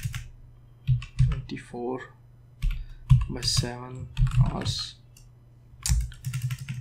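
Clicky typing on a computer keyboard during a Photoshop lesson, bursts of quick key presses under and between a man's speech.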